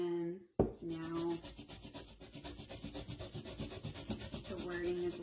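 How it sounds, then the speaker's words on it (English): Sandpaper lightly rubs over the painted lettering on a mason jar, making a steady rhythmic scratching of quick back-and-forth strokes close by, after a brief sharp knock at the start. "See how I'm just lightly sanding that"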